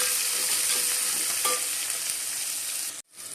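Four onions sauté in hot oil with mustard seeds and curry leaves for a prawn curry, giving a loud, dense, steady sizzle up close that cuts off abruptly near the end.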